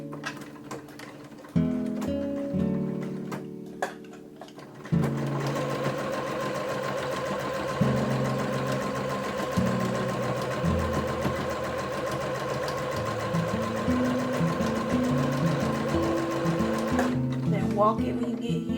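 A sewing machine back stitching fabric at a 3/8-inch seam for a bandeau bralette, running in steady whirring bursts that stop and restart, under a voice speaking.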